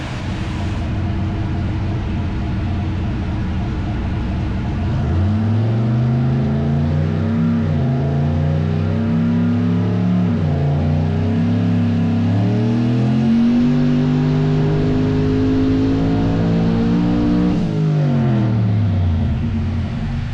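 The BlueCheww car's engine on a dyno with 4 more pounds of boost, a loud sustained drone whose pitch climbs steadily as it revs harder, wavers, then drops briefly near the end before rising again; no voices.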